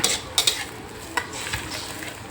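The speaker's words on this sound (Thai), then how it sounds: "เราจะผัดพริกแกงเผ็ดกับน้ำให้หอมก่อน ละลายพริกแกงกับน้ำนะคะ" Red curry paste stir-fried with water in a pan for a mackerel curry, a close bubbling sizzle broken by several brisk scraping stirs and taps of the spatula.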